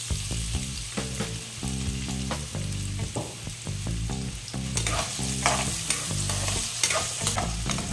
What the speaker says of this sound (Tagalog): Prituhin po muna natin ng konti.